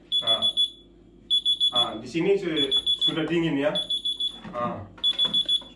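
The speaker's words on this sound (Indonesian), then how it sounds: "Alarmnya sudah bunyi ya." A two-door refrigerator-freezer under repair sounds its alarm in repeated bursts of shrill, evenly spaced beeps at close range, while someone talks over and between them.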